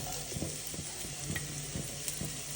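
Carrot and other vegetables sautéing in oil in a pan for restaurant-style chicken noodles: a soft, faint, continuous sizzle with evenly spaced light stirring taps, close by with no talk.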